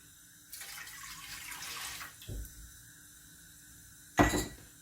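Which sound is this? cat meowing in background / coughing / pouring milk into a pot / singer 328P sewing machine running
pouring milk into a pot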